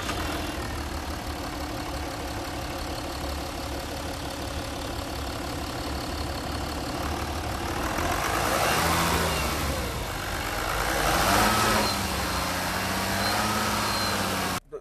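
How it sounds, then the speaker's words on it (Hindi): A 2015 Jaguar XJL's engine runs at a steady idle, then revs up twice in broad swells before settling back to idle, heard close and without talk. "एक भाई सेल्फ मार के आपको इसके इंजन की साउंड सुनाता हूँ"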